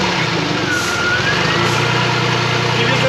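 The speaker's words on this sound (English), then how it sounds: "time for the moment of truth. Let's reach in and starting the engine." A 2006 Pontiac Montana minivan, with a steering fault and a newly fitted power assist pump, runs at a loud, steady idle up close, its low engine drone carrying a faint whine throughout.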